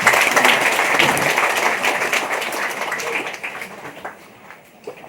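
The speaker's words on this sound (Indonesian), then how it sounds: "Kita tepuk tangan untuk beliau." An audience at a church celebration for a priest's silver jubilee applauds steadily, dense clapping that gradually thins and fades toward the end.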